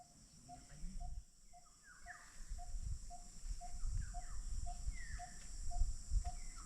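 Birds call and chirp in the Filipino countryside, with repeated short tweets and whistled notes over a steady insect drone and a low rumble of background noise.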